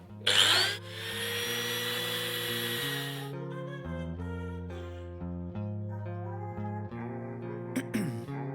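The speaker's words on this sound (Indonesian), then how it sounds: "Nah, gerinda saja." An angle grinder cuts at a part from a carbureted Honda Beat motorcycle under repair, giving a loud, harsh, steady whine for about three seconds up close before it stops and music carries on.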